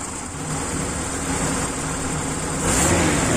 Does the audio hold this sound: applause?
no